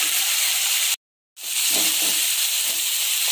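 Chopped onion, tomato and garlic hit hot sesame oil with popped mustard seeds in a kadai, giving a loud, close, steady sizzle that cuts out briefly and then resumes just as strong.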